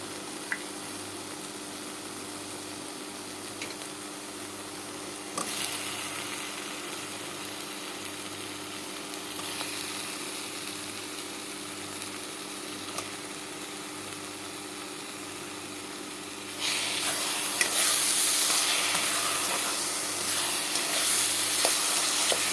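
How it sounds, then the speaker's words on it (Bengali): Rohu fish with potato and tomato fries in oil in a pan, giving a continuous soft sizzle over a low steady hum. The sizzle grows louder and brighter near the end as the mixture is stirred. "এখন ভালো করে কষিয়ে নেব"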